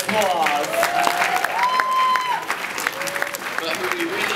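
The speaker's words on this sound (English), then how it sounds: "Give yourselves a round of applause" Convention closing ceremony crowd applauding, a sustained bed of clapping running the whole time with voices and cheering mixed in over it.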